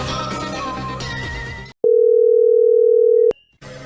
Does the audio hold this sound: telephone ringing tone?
yes